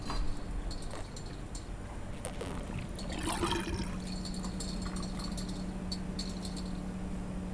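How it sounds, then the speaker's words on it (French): A steady mechanical hum of a pump scientists use to analyze water samples aboard a ship drones under running, trickling water, with a brief splashy burst partway through; moderately faint and continuous, no voices. "c'est le bruit d'une pompe dont les scientifiques se servent pour analyser les échantillons d'eau"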